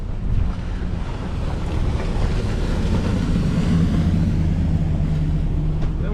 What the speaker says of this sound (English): Got a bigger boat coming towards us right now.